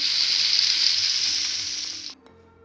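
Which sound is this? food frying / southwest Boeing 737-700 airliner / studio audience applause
food frying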